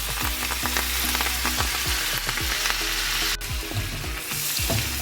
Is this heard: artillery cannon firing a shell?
no